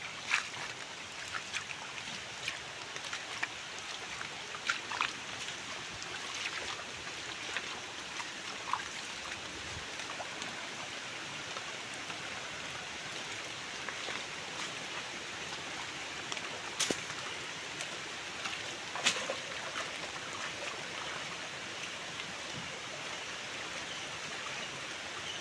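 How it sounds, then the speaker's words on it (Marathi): Water runs through a freshly cleaned village irrigation channel as a constant rushing flow, with scattered splashes and drips nearby and no voices. "पाणी बघा पाटाला."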